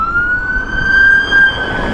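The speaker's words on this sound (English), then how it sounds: "Just let this ambulance go by." An ambulance siren passing on a road during a bike ride, a loud, close wailing tone that holds steady and swells slightly as it goes by, with no voices.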